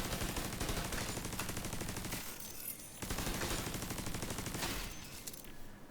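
Normal turret firing in The Division 2, loud rapid automatic bursts in two long volleys separated by a brief gap, close and dense with no talk.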